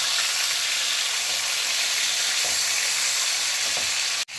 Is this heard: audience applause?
no